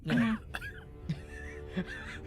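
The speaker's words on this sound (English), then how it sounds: "the awkward cough." A few short coughs, one loud at the start and two smaller ones spaced apart, with some low murmuring in the background.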